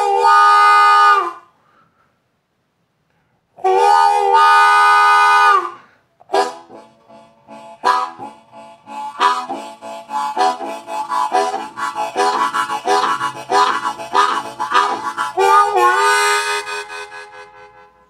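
A blues harmonica imitates a train, opening with two long, chord-like whistle blasts and then settling into a steady, rhythmic chugging pattern that gradually builds, played close and loud.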